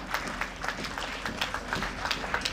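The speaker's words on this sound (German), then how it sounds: "Wir beginnen mit Platz 3 und damit noch einmal Applaus hier für Josef Sattler und Luca Schmidt." Audience applause at a motorcycle road race podium ceremony at the Lausitzring circuit, steady crowd clapping with distinct rhythmic claps standing out near the recording point, brief and continuous throughout.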